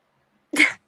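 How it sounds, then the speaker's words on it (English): A single short, sharp burst of breath, close and fairly loud, after silence. "I just sneezed."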